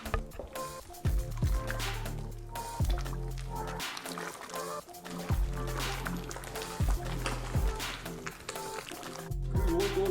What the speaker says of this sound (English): Now stir it slowly and steady while I have a heat here.